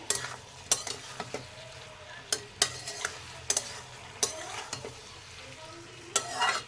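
Chili chicken stirred in a frying pan with vinegar and sauce, a ladle scraping and clacking in irregular sharp knocks over a soft, steady sizzle.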